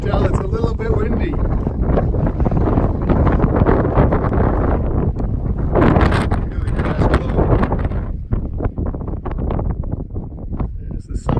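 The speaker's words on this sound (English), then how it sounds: "You can tell it's a little bit windy." Gusty wind buffets the microphone on an exposed mountain summit trail, a steady loud roar with rustling bursts throughout while a person talks over it.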